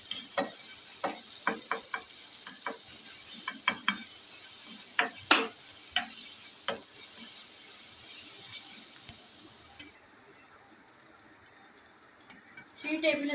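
Eggplant frying with spices in a pan gives a steady soft sizzle, broken by repeated sharp clicks and scrapes of a spoon stirring, close and moderately loud, with no talking.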